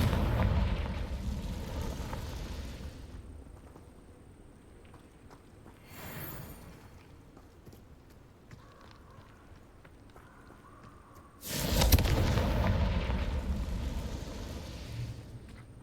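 Confringo fire spells from Hogwarts Legacy burst in loud blasts, one opening the stretch, a shorter one near the middle and a strong one late, each trailing into a rumbling decay amid quiet game ambience.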